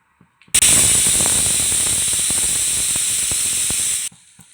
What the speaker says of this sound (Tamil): ஒரு விசில் வந்தாச்சு.